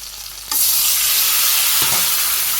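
A pan of food frying lightly before lentils go in, a sudden loud hiss flaring up after a quiet start and holding steady, with a faint stir or scrape near the end.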